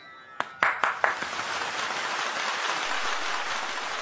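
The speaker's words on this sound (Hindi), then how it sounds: "जोरदार तालियों के साथ स्वागत करें प्रमोद कुमार कुश तन्हा जी का" Applause welcoming a poet at a Hindi poetry gathering: a few loud, distinct claps open, then a dense, even wash of clapping follows and carries on steadily.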